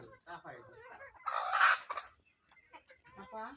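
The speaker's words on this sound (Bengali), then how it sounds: "দেখেন মুরগিগুলো কি সুন্দর" Backyard chickens cluck nearby and a rooster gives a short, loud crow in the middle, with someone talking before and after it.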